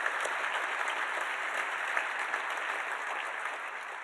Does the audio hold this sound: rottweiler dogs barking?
no